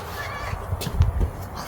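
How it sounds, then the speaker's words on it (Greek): A cat near a church entrance in Greece gives short soft meows close by against outdoor background noise. "Και εδώ έχουμε μια γάτα που κάτι θέλει."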